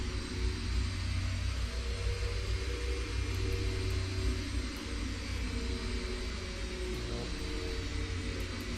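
X-Plane 10 aircraft engine idling while taxiing, a steady droning hum with low rumble and a constant hiss, even and unbroken throughout.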